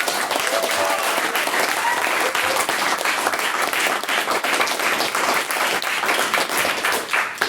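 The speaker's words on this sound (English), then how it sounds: "I would urge the House to give them a round of applause for their efforts" A debating-society audience in a chamber bursts into sustained, dense applause that stays loud and steady throughout, with faint crowd murmur mixed in.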